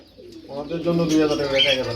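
Red Dakua pigeons at a pigeon farm coo in low, rolling, steady calls that swell after a quiet start, close and fairly loud, with no talking.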